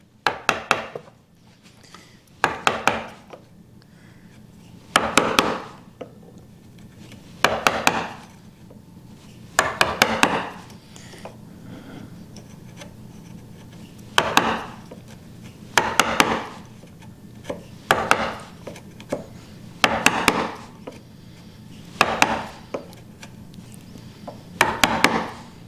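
A chisel chops small incisions into wood for a mortise in a hand-cut table apron joint, sharp close knocks struck in quick clusters of two or three, repeated about a dozen times with short pauses, no talking.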